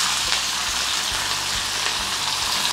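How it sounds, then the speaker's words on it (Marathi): Onion, green chili and curry leaves sautéing in a pan over mustard seeds, cumin and asafoetida: a loud, continuous bright sizzle with soft periodic low knocks of stirring, no talk. "हे छान परतून घ्यायचा कांदा, मिरची, कढीपत्ता."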